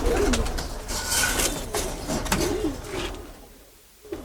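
Pigeons coo softly from a close pigeon loft of racing-line birds in Uttarkhan, Dhaka, with a few low, rolling calls over faint background noise and no talking.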